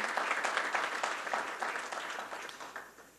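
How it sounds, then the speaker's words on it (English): A community center dedication crowd gives a round of applause, an even wash of many hands clapping at a distance that gradually thins and fades. "all of you people deserve a round of applause"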